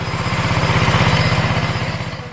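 Tractor engine running in a rice field during planting, a loud, close, steady chugging putter with an even rapid pulse, holding level before easing slightly at the end.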